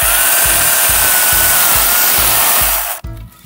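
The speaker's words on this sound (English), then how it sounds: "sometimes this chainsaw gets caught up, especially with the weight of the pole." An angle grinder fitted with a chainsaw attachment whines loudly while cutting thorny bamboo, with a rhythmic chugging as the chain bites repeatedly, then it cuts off abruptly near the end.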